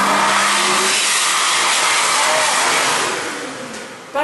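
A loud World Dryer Airforce electric hand dryer blasts a strong, steady rush of air close by, fading slightly toward the end before a brief bump.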